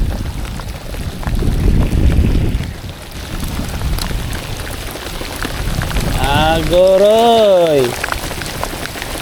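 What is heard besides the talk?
heavy rain while kayak fishing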